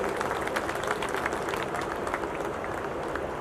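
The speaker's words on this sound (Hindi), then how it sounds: "जोरदार तालियां प्लीज" An audience at a Diwali festival gathering in district courts claps for a guest poet, an even, continuous wash of applause through the whole moment.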